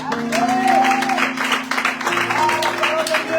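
A church congregation applauds together, dense clapping and crowd noise filling the space, with a sustained organ or keyboard tone and voices mixed underneath.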